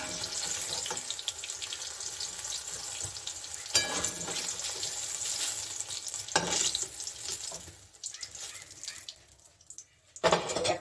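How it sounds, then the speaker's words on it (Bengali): Eggplant slices frying in oil in a pan give a steady, close sizzle with scraping and stirring clatter throughout, briefly easing near the end before flaring up again. "আমার বেগুনগুলো ভাজা হয়ে গেছে, আমি এরকম ভেজেছি।"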